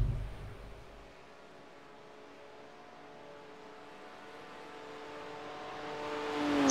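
A race car engine at a six-hour endurance race whines steadily in the distance, sounding off, its pitch climbing and swelling louder toward the end as the car approaches.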